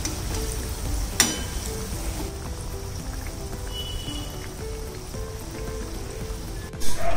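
Wheat flour biscuits cooking slowly in a pan over low heat, giving a soft, steady sizzle that hangs in the background, with a faint clink near the start and a brief bump at the end.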